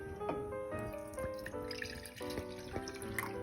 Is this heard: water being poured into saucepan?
yes